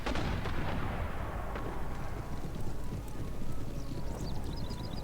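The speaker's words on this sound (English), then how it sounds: "those mortars are already causing me a lot of trouble here" Mortar artillery fire on a battlefield in Empire: Total War, a continuous dense rumble of booms and distant shots filling the whole stretch.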